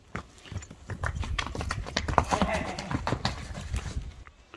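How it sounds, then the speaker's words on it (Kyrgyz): A young horse walks with a brisk, irregular clip-clop of hooves, close and fairly loud, while people talk over the steps throughout. "Аттын баскан басыгы."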